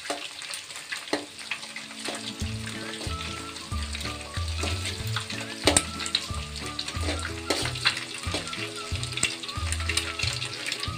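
An egg fries in oil in a pan for Hakka noodles, giving a steady close sizzle broken by repeated clatter and scraping of a utensil against the pan.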